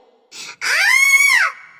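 A woman's high, rising scream in a Hindi horror story, one drawn-out cry after a short breathy gasp, loud and close with nothing else around it.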